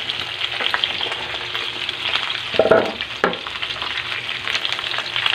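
Garlic, ginger and onion sizzle and fry in hot oil alongside dory fish and pork for paksiw, a steady crackle with a couple of louder bursts as ingredients hit the pan, no talking.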